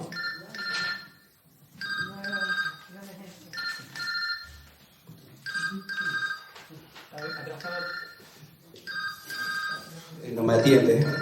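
A telephone ringing through a call receiver, a steady repeated electronic trill in regular bursts, heard during a phone call with a voice speaking in Spanish over and between the rings.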